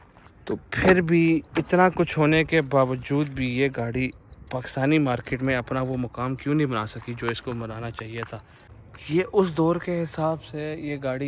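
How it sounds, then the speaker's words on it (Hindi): A Suzuki Baleno's key-in-ignition warning chime sounds as a thin, steady high beep, faint and continuous beneath someone talking close to the microphone. "आपको अगर चाबी लगी हुई है इस गाड़ी में तो ये उसका अलर्ट भी आपको देती है"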